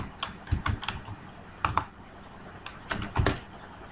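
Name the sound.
typing on computer keyboard in MS Excel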